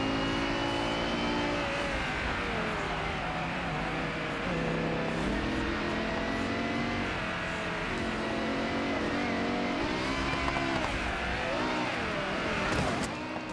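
A race car engine in a racing video game drones loudly and continuously, its pitch climbing and dropping through repeated gear shifts and revs. A louder flare comes near the end, with no one speaking over it.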